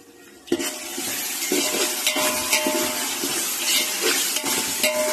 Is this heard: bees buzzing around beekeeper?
no